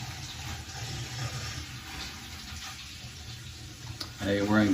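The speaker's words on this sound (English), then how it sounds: "You can hear it getting air out of the lines from where we shut off the water." Hot water runs from a bathroom faucet after the supply was shut off, a steady rushing flow with uneven sputtering as air clears the lines. A voice briefly comes in at the end.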